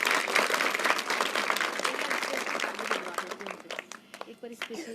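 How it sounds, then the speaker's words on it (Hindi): Schoolchildren applauding together at a school event, a dense burst of clapping that thins into scattered claps toward the end, with voices mixed in. "बच्चों एक बार ताली बजाएंगे सबके लिए"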